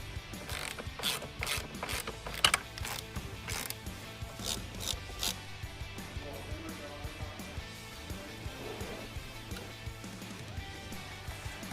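Rapid ratchet clicks from a hand wrench tighten power steering bolts under a Kia or Hyundai, coming in quick bursts of clicking with short pauses, close by and fairly quiet, and no talking over it.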